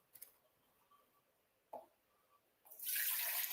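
Juice poured into a container, preceded by a couple of faint clicks and knocks, then a steady splashing pour that starts abruptly near the end and runs until the close.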